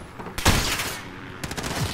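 Rapid, loud bursts of automatic gunfire in Call of Duty Modern Warfare multiplayer on the Shipment map, with sharp overlapping shots crackling in quick succession.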